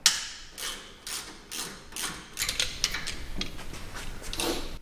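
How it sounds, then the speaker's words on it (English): A 12mm socket ratchet works on a bolt holding an emergency brake line bracket to a Toyota Tacoma's leaf spring mount, giving a series of close, short clicking and rasping strokes at an uneven rhythm. "Disconnect the emergency line bracket from the leaf spring mount with a 12mm socket"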